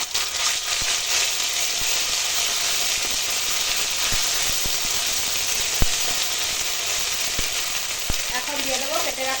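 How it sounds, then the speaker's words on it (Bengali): Bay leaf, dried chilli and five-spice tempering sizzling in hot oil left from frying lentil fritters, a loud steady close hiss with scattered sharp pops throughout. "ওই বড়া ভাজার তেলেই দেব ফোড়ন তেজপাতা শুকনো লঙ্কা আর পাঁচ ফোড়ন"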